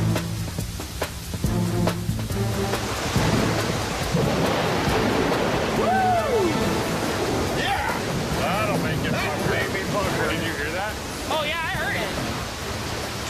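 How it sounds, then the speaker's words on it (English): Heavy rain pours down in a steady broadband hiss, continuous throughout, while someone talks over it in the middle and later parts. "with this rain coming down like it is"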